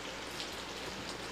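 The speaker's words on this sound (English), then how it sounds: "This rain" Steady rain falling outdoors, a dense even hiss with soft patter, continuous and moderately close with no voices.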